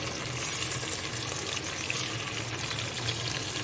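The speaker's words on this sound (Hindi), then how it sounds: "फिर 3-4 कटे हुए छिले हुए आलू डाल दें, उनको भी फ्राई करें।" Chopped, peeled potatoes fry in a pot for a garlic soup, giving off a dense, even, continuous sizzle close by with no voices.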